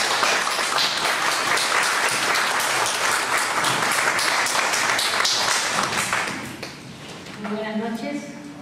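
An audience at an evening university lecture applauds a guest speaker being welcomed, steady loud clapping throughout that thins out toward the end as a voice starts speaking.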